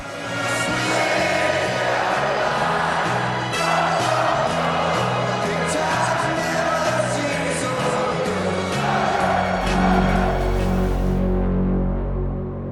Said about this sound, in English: As the runners emerged from the tunnel and were led out onto the track, the huge crowd broke into song.